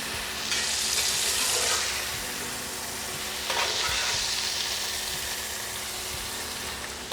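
Cheesy garlic burgers fry in a pan with a steady, close sizzle and crackle, swelling into louder hissing bursts twice as they are turned, with no talking.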